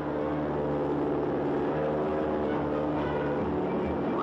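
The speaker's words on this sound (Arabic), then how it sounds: "صعد إلى الطائرة التي أرسلها جلالة الملك سعود لتقل الرئيس جمال إلى الأقطار الحجازية" A propeller airliner sent by King Saud to carry President Gamal Abdel Nasser to the Hijaz in 1954 drones with a steady, continuous engine rumble from start to finish, with no voices over it.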